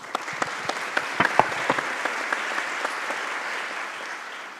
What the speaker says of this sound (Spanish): un aplauso para Jorge Danós.